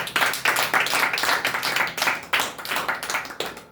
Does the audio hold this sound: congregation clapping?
yes